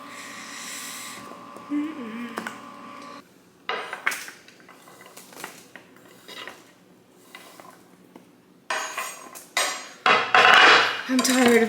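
Sharp knocks of a knife chopping sweet potatoes on a cutting board come in irregular bursts, with clattering of utensils and a voice speaking between cuts.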